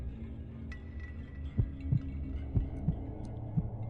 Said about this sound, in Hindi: दिल की धड़कनें और भी तेज हो गई